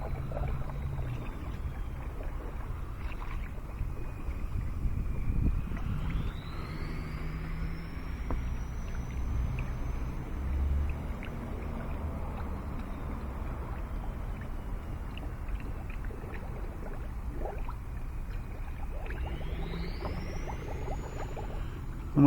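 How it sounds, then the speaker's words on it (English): Coolant is poured steadily into the cooling system of a Chevy Cruze, a continuous gurgling, sloshing flow close by that runs throughout with no talk. "And just start filling it up with coolant."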